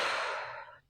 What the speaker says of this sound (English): breathing in through your nose. 1, and out.